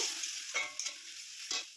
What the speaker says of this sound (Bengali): এই যে আমার ভাজা হয়ে গেছে, এখানে এবার আমি জলটাকে অ্যাড করে দেব।